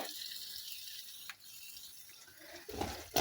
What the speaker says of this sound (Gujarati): તો હવે એમાં આપણે ગોળવાળું પાણી ઉમેરીએ